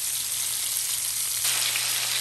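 Lamb chops sizzle steadily in a pan with butter and thyme, a loud, continuous hiss of frying that swells slightly partway through, with no talking.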